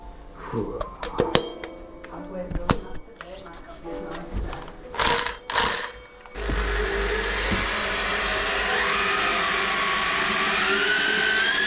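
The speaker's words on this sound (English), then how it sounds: "let's get the middle of that circle, Jonah, and we'll get that drilled" A drill bores into a wall to cut a hole for fitting a ventilation unit, first in short bursts amid clinks and voices, then a steady loud whine with rising pitch that runs to the end.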